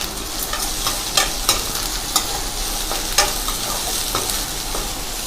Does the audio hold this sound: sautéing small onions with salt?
yes